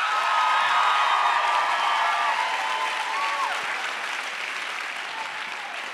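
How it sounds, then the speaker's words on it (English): Audience at a homecoming variety show applauds continuously, loud and steady at first and slowly tapering, with a few scattered whoops in the crowd. "let's give one more round of applause to everyone who made tonight special"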